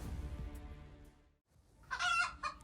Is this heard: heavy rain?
no